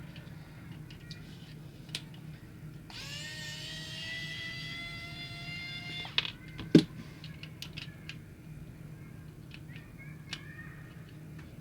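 Plastic snapping and a thin squealing scrape as a magnetic pullback toy Batmobile is pried open, with a sustained squeak partway through and then a few sharp clicks and taps close up.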